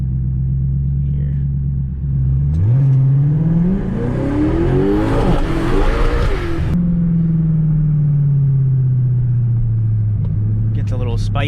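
An Audi S6 with a big single turbo pulls hard through one gear inside the car, its engine droning and rising steadily in pitch before easing off into a lower, fading hum; people talk over it.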